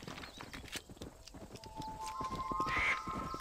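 Horse walking in Red Dead Redemption, steady close clip-clop hoofbeats on rocky canyon ground, with faint tonal game sounds in the background and no talking.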